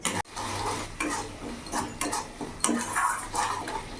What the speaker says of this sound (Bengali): এবার ভালো করে আমি মশলাটা কষিয়ে নেবো যতক্ষণ না মশলা থেকে তেল ছেড়ে দিচ্ছে